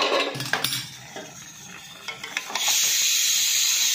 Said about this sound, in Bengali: আমি এবার একটা পাত্রে নামিয়ে নিচ্ছি